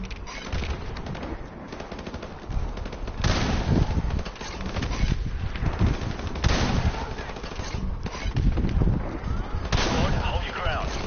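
Gunfire and artillery in Call of Duty Modern Warfare Remastered, with loud booming blasts every few seconds over continuous rattling shots and a dense battle din.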